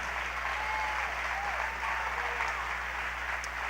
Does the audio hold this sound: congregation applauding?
yes